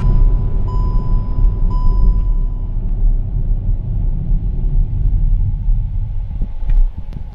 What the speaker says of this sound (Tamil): இப்போ நாம அரௌண்ட் 120 km/h ஸ்பீடில் இருந்து ஹார்ட் பிரேக்கிங் அடித்து பிரேக்கிங் ஃபீல் எப்படி இருக்குது அப்படிங்கிறத பார்க்கலாம்.